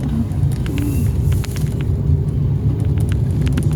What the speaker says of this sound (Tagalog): Ay, traffic dito.